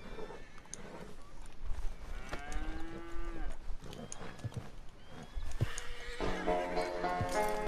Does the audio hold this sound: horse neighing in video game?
yes